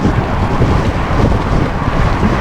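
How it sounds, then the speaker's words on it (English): Strong gusting wind buffets the microphone during a bike ride along an open causeway beside a concrete barrier, a steady, loud, broadband rush with no voices. "The wind is gusting."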